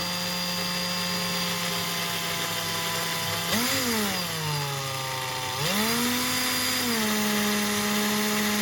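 A steady high motor whine from a power drill polishing a 1966-71 Dinky Toys Saab 96 diecast part, pitch dipping twice as it bears down on the part, continuous and close.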